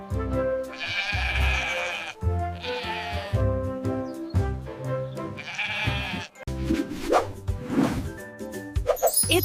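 A sheep bleats in several long, loud, quavering cries, each lasting about a second or more and separated by brief pauses, close by with no other sounds.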